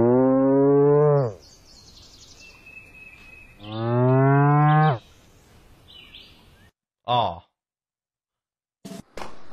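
A cow in a deer simulator video game gives two long, loud moos a few seconds apart, followed by short clipped game noises and sparse sounds.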